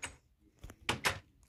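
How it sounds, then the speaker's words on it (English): A Minecraft wooden door shuts in a video game, heard as a couple of quick, sharp clacks close together following a softer earlier tap. "I need to stop leaving the door open."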